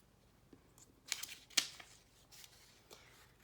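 Scissors snip through paper for penguin craft pieces in a few short, crisp cuts, faint and close, with rustling of the paper between snips.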